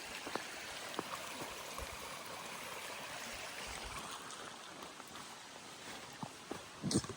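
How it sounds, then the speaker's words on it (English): A creek beside a campsite on the Virginia Adventure Trail flows and burbles steadily at moderate distance, a continuous gentle rush with a few soft knocks and scrapes nearby. "Right next to a creek I get to listen to all night."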